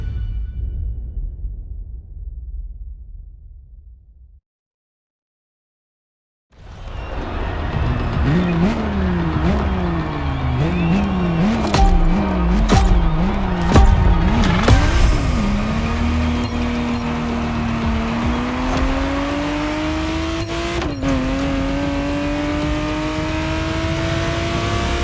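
Ferrari Testarossa in The Crew Motorfest, its engine revving hard through repeated gear changes after a brief silence, then settling into a loud sustained high-speed roar with occasional tire and shift noises.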